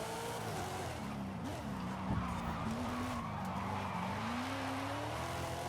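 Racing video game car drifting through corners, its engine droning steadily with a wavering tire squeal sliding through most of the stretch; no talking.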